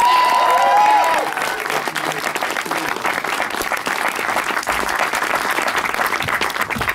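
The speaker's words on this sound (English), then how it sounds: "Everybody, a big round of applause for Maisie" A fan audience at a Game of Thrones talk applauds Maisie Williams. A brief tone fades out as dense, loud clapping takes over and carries steadily to the end.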